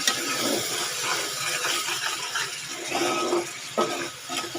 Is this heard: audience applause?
no